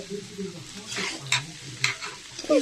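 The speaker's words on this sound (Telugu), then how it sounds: "అన్నీ ఒకదాని ఒకటి ఫ్రై చేసేసుకొని అన్నీ వేసుకోవాలి" Chopped carrot, capsicum and curry leaves frying together in a pan for noodles, a close, continuous sizzle broken by a few scraping stirs of a spatula, with no talking.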